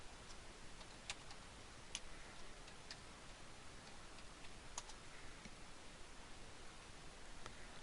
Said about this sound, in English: We're just going to type in affiliate program.